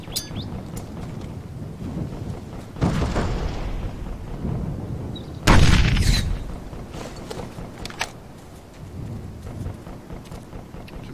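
Gunfire and explosions in the military shooter game Operation Flashpoint: Dragon Rising, with booming rumbling blasts and crackling shots, the loudest burst near the middle, over steady battle noise.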